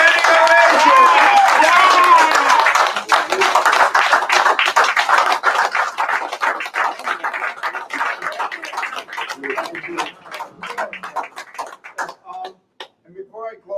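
A theatre audience gives a standing ovation, with sustained, loud, dense applause that gradually thins into scattered clapping, and some voices mixed in.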